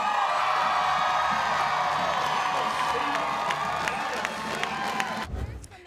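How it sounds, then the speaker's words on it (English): A live television studio audience cheers and whoops loudly and continuously for several seconds before the noise cuts off abruptly near the end. "And the crowd goes wild!"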